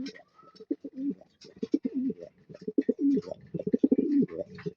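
Racing pigeons coo in a steady stream of low, rolling, throaty calls close by, several birds overlapping in rhythmic bursts throughout.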